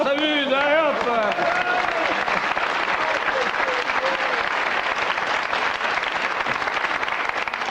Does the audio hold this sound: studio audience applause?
yes